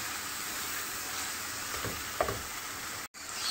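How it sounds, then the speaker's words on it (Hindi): Keema masala with garlic ginger paste, for a beef and lobia keema, sizzles steadily in hot oil: a continuous close frying hiss with a faint stir sound partway through. "हमारा मसाला जो है वो अच्छे से भुन चुका है, कीमा अच्छे से भुन चुका है"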